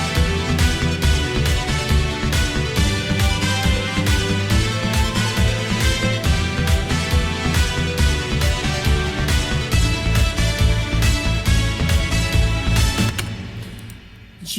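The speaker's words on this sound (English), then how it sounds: "Right then, let's lead that into a new section," A Korg M1 synthesizer plays a bright, energetic section of flying-themed game music with a rapid arpeggiator, steady beat and dense layered parts, loud and continuous before fading out at the end, with no talking.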